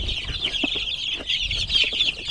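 A group of KUB chickens cluck and chatter continuously, close by, with soft overlapping calls and occasional louder squawks.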